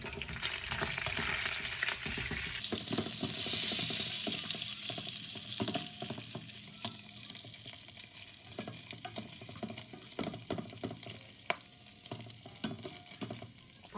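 Bacon frying in a pan, a dense continuous sizzle and crackle up close, loudest in the first few seconds and then thinning into sputtering pops with a few sharp spits of fat.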